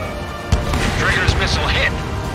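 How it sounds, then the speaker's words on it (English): A missile is launched and strikes its target in the Ace Combat 7 jet game, a sharp burst followed by a rumbling, roaring blast over constant engine drone, with radio voices talking over it. "Strider 1, missile away."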